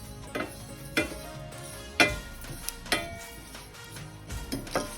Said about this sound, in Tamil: இந்த மாதிரி இந்த அரிசியை வறுத்து எடுத்துக்கோங்க